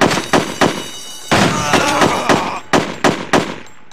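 Rapid gunfire from the video game Mob Enforcer, a series of sharp, loud bursts and single shots in an irregular rhythm with short gaps between them, close and dominant with no talk.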